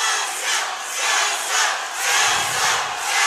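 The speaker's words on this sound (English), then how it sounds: "You can hear the crowd behind us." A spirited boxing crowd at the Philadelphia National Guard Armory roars and chants in loud, rolling waves, rising and falling every second or so across the hall.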